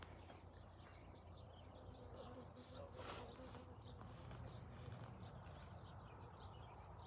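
A steady, faint drone of bees in a hive hums continuously in the background, with occasional louder buzzes passing near amid soft outdoor noise.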